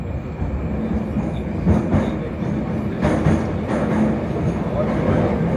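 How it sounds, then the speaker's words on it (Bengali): A Tashkent metro train rides underground between Amir Timur Square and Chorsu, with a loud, steady rumble of wheels and carriage noise, faint clacks over the rails and voices talking under the din. "আমির তৈমুর স্কোয়ার থেকে মেট্রো নিয়ে এবার আমরা রওনা দিলাম চোরসুর দিকে"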